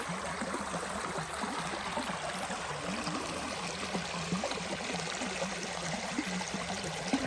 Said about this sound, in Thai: มีลำธารให้เราเล่นได้ค่ะ บรรยากาศดีมาก ๆเสียงน้ำไหลเย็นมาก